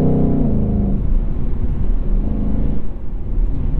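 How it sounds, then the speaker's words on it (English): A loud, deep V8 exhaust of a 2021 Ford Mustang Mach 1 rumbles and burbles continuously, close by, with a throaty low growl that swells slightly as the engine revs. "It blows my mind that Ford is able to sell this thing and the GT500 with exhaust systems that are this brutal."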